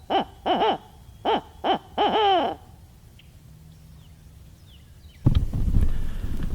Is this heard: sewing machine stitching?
no